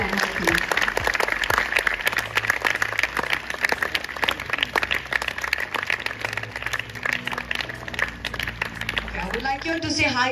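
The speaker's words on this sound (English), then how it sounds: "Students, kindly give a round of applause to Cecil and her team." Students clap for a visiting guest and her team at a school gathering: dense, steady applause runs the whole stretch with voices mixed in underneath.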